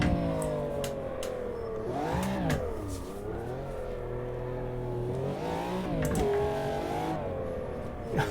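A McLaren F1 V12 LM in the racing game Automobilista 2 revs hard and accelerates, its V12 engine tone rising and falling through gear changes, loud and continuous throughout.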